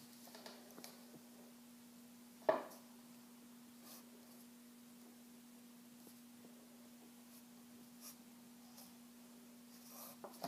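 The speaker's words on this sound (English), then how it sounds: "So can you write an A right here?" A pencil writes a letter on paper in faint, scratchy strokes with a small tap near the start, all over a steady low electrical hum in a quiet room.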